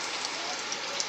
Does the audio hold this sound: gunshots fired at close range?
no